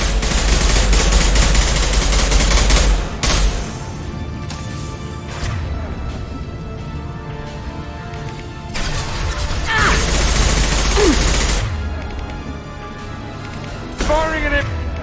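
Rifle gunfire in the video game Mass Effect 2, loud dense bursts and volleys of shots with heavy low booms, pausing and resuming across the stretch, with game sound effects layered between.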